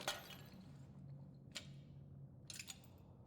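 A bowl of ink knocked away in the Bendy video game, heard as a few quiet, brief clinking breaking sounds spread over a low hum.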